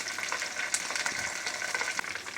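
Hot oil tempered with curry leaves, cumin and mustard seeds is poured into a kadhi, producing a steady close sizzle that stays even for a couple of seconds.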